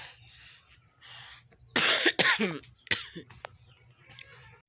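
A run of loud, hacking coughs from a sick person up close, two or three in quick succession, then a softer cough and low background noise.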